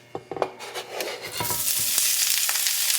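Chopped onions, Carolina Smokies sausage and garlic hit a hot pan, first with a few clinking stirs, then a steady, loud sizzle and frying crackle that builds and holds close by.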